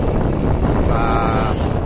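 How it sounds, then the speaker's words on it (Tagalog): Strong wind buffeting the microphone outdoors on a loop ride through Quezon Province, a loud continuous low rumble and roar with no break. "So medyo malakas ang hangin dito at may pag-ambon-ambon ng konti"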